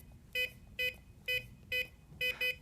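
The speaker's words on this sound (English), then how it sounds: "Hold that last number down for the second set of beeps" A SafeLogic electronic safe lock keypad sounds six crisp, close beeps after a supercode is entered. The first four are evenly spaced and the last two come in a quick pair, all over a quiet room hum.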